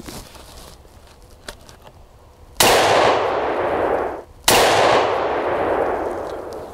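Two loud .30-06 rifle shots firing 150-grain bullets at a lightweight Level III+ body armor plate, each a sharp crack followed by a long ringing decay, spaced about two seconds apart after quiet outdoor background.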